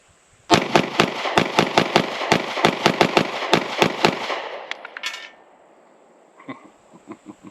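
Witness 2311 SC pistol firing at a target outdoors, a fast string of about twenty loud, sharp gunshots that trail off into echo, followed by faint handling clicks.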